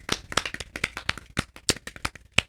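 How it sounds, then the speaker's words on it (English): A handful of people give a light golf clap, sparse separate claps landing unevenly and fairly close, quiet and unhurried with no talking. "That gets a golf clap."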